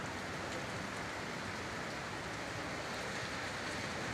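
Snow falls like rain on a cold hillside about 950 feet up, making a faint, steady, unbroken hiss.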